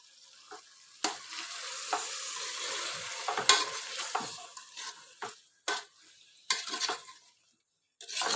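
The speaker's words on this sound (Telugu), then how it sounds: "ఇప్పుడు ఇది మెల్లగా కలుపుకుందాము, అంతా మిక్స్ చేసుకోవాలి." Curd and vegetables being stirred in a pan for vegetable biryani over a low flame, with a soft steady sizzle under repeated scraping and clinking strokes of a spoon against the pan.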